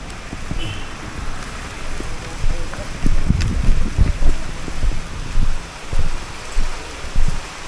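Heavy rain falls in Gokarna on a beach-town street, a steady broadband wash pattering throughout with uneven surges, plus faint wind buffeting the microphone and scattered nearby knocks.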